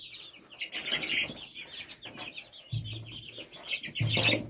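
Hens clucking with high cheeping from a chick with a crossbeak birth defect, a barnyard chorus of close bird calls with a rooster-like burst near the end and faint wing flaps.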